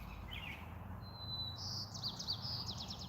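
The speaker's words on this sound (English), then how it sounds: "I hope you guys can hear the birds over me a little bit" Several outdoor birds tweet and chirp in quick high bursts, fairly faint and distant over a steady low background hum, with no talking.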